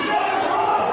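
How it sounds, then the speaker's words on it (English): Basketball crowd at a varsity girls game jeering and yelling at the referees after a foul call, a dense steady roar of many voices filling the gym. "the crowd is just really giving it to the refs this game"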